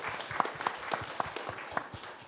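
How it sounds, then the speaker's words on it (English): An audience applauding an award-winning game team at a game development workshop, with a brief burst of scattered, rhythmic clapping from a modest crowd and no speech over it. "So let's give a round of applause to"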